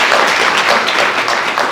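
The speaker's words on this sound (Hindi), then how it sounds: "तो मैं चाहता हूँ कि आर्टिस्टों से पहले आप जोरदार तालियों से उनका स्वागत करें" An audience at a theatre festival stage event claps steadily, a dense continuous wash of applause at close range with no pause.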